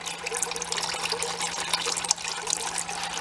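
Engine oil drains from the underside of a 1974 VW Thing into a pan, a steady soft trickle and splatter of liquid that continues evenly and at low level the whole time.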